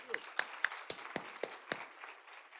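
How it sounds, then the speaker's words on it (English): Sparse, faint applause at a campus event, a handful of distinct claps spaced out and fading over a couple of seconds. "So another round of applause for your support"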